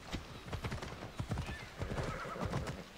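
Horse in the Assassin's Creed Odyssey video game, hooves clip-clopping in a steady, close rhythm with a whinny partway through, set against a busy in-game ambience.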